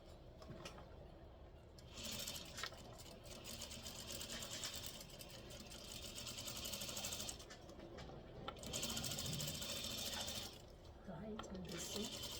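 A sewing machine edge-stitches a seam on a lapel collar, its needle motor running in quiet rapid chattering bursts with brief pauses between runs.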